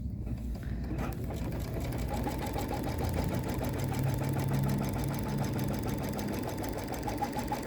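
A sewing machine hums steadily and close as it stitches a circular buttonhole design, its rapid needle rhythm running continuously throughout.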